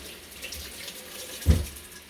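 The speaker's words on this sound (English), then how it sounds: "I'm going to wash my hands." Hands washed under a running kitchen tap, a soft steady stream of water with a brief louder splash partway through, heard close and without talk.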